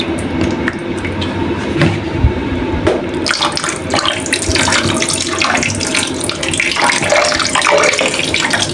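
Water poured from a tap or container into a basin to soak fish for homemade smoked tinapa, a steady close splashing and gurgling that runs continuously throughout.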